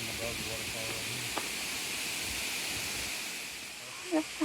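Issaquah Falls rushes as a broad, steady roar of falling water, loud and continuous, with faint voices and a brief bird-like chirp riding over it.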